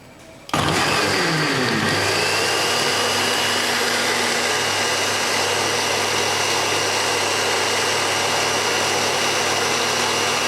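A mixer grinder blends green chilli, mint, garlic and ginger chutney, starting abruptly with a loud whirring motor that then runs steadily and close throughout.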